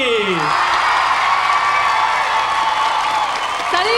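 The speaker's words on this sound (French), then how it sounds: "Voici Maryse, on l'applaudit!" An outdoor show audience applauds and cheers as a performer is welcomed on stage, dense loud clapping with whoops rising over it and tonal sounds from the stage at the start and end.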